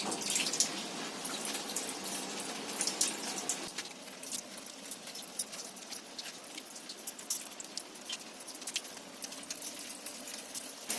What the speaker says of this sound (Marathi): आणि हे धुताना आहे ना पाणी चालू ठेवायचं